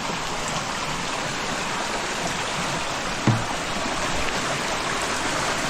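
Spring water flows steadily from a roadside spring, a continuous close rushing wash with one brief low knock partway through.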